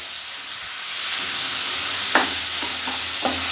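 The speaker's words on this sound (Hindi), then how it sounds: "इसको हम अच्छे से भून लेंगे," Whole garlic, chilies, turmeric, garam masala and Kashmiri chili sizzle steadily in a hot pan, with a few clear clinks of a spoon stirring near the end.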